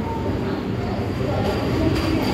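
The 12796 Lingampalli–Vijayawada Intercity Superfast Express gives a steady, loud rumble of a running train, continuous and close throughout the short stretch.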